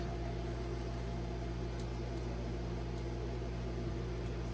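Ribeye steaks cooking in an air fryer give off a steady, even whir of fan and hiss with a constant low hum, unbroken and moderately close, with no voices.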